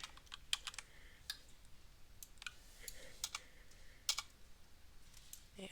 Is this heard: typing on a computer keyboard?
yes